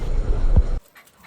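A dog on the roadside gives a single short, loud bark at close range over steady engine and road noise during a scooter ride. Everything then drops to near silence.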